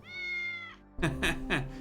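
A cat in the video game Tales of the Neon Sea gives a drawn-out meow, then after a short pause three quick, brighter meows in a row, clear and close with no talking over them.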